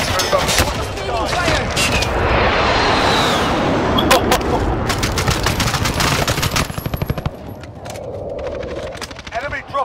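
Dense rapid bursts of automatic gunfire from the video game Warzone crackle in near-constant volleys, loud and close, with voices heard among the shooting.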